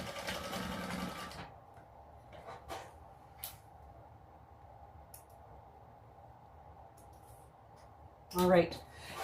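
Sewing machine basting a D-ring connector onto the bottom edge of a retro-style sling, a short close whirring run at the start, then quiet handling clicks and a brief rustle near the end.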